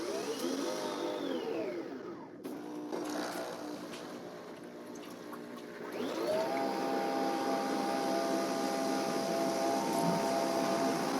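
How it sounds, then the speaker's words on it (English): Two Nespresso Vertuo coffee machines, a Pop and a Plus, spin and brew the same capsule, giving a steady whirring hum with rising and falling tonal sweeps and a continuous mechanical drone that runs throughout. "The Vertuo Plus is taking a lot longer to spin and brew. This one started spinning and brewing a lot quicker."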